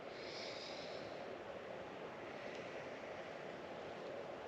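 Steady, breathy rush of air exhaled through the nose during Kundalini breathing practice, continuous and close for the whole stretch with no talking.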